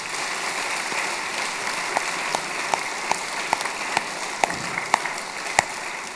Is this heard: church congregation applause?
yes